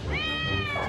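A domestic cat gives a single drawn-out meow, close and clear, lasting under a second.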